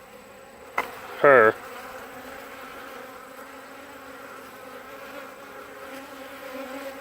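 Honey bees buzz around a rejected queen in a hive, a faint steady hum under a brief sharp burst of louder buzzing near the start, with a single spoken word.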